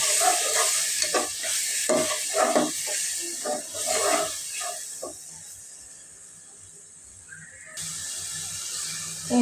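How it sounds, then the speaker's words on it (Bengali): A spice paste with a splash of water is stirred and fried in a pan, bursts of utensil scraping over a steady close sizzle and hiss, settling into a quieter simmer before the hiss rises again. "পানিটা দিয়ে আমি এখন মশলাটা ভালোভাবে কষিয়ে নেব।"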